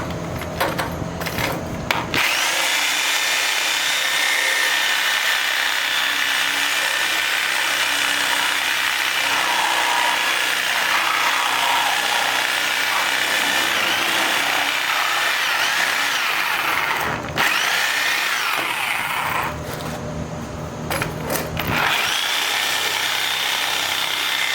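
A power tool cutting off a stuck bolt on a utility trailer taillight, a loud, harsh, continuous grinding whine close by, broken by two brief pauses before resuming.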